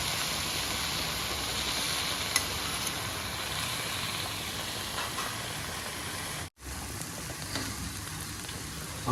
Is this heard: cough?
no